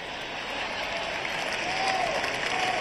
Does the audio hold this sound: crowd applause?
yes